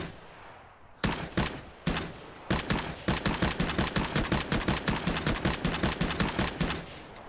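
Rapid automatic gunfire from the Vietnam-era shooter game Rising Storm 2: Vietnam, a short burst then a long sustained volley of loud, evenly spaced shots that cuts off near the end.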